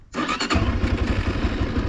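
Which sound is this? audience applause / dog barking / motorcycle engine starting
motorcycle engine starting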